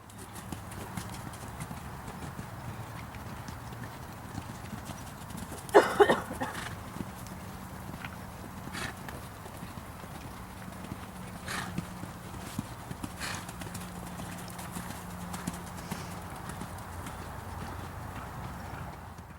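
A horse's hooves clip-clop steadily at a canter after picking up the correct lead straight from a walk, a continuous rhythmic beat at moderate distance with a brief louder scuffle partway through.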